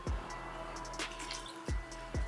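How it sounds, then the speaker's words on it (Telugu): Milk is poured into eggless rava cake batter in a bowl, giving a few soft, close drips and wet plops over a low, steady background hum. "ఇలా పాలు కూడా పోసుకోవాలి"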